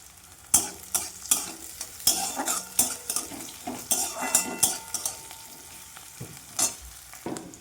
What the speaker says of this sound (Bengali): পেঁয়াজটা রসুনটা ভেজে নিয়ে নিলাম